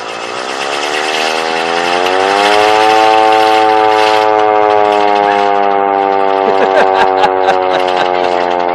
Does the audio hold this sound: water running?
no